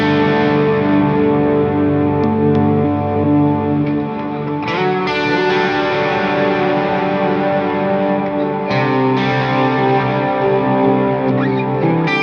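A dense, sustained guitar chord rings on with heavy reverb and distortion from a reverb pedal, a steady shimmering wash with slight shifts in texture.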